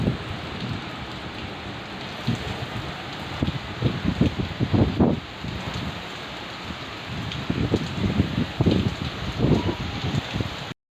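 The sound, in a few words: heavy rain starting to fall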